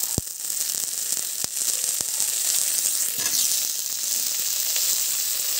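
Cut potatoes fry steadily in hot oil in a pan for spicy tangra fish curry, a dense continuous sizzle with a few sharp clicks of a spoon or spatula near the start.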